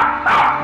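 A dog barks once or twice in a short, loud burst, close by and alone, with no talk over it.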